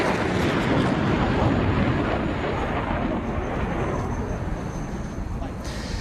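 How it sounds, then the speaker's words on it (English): An Italian Air Force Panavia Tornado IDS jet flies at an air show, a loud continuous broadband roar that stays steady throughout with a slight fade toward the end, while an announcer talks over it. "Due to the aircraft high speed, timing and ground references are essential to even the simplest maneuvers."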